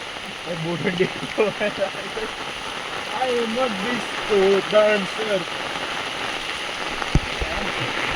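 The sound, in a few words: rain falling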